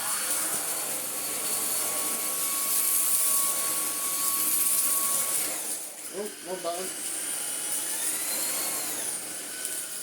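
A Kalado KCV01 cordless vacuum whines steadily at a high pitch. A brief spoken remark cuts in partway through.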